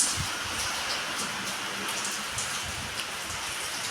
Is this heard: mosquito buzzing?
no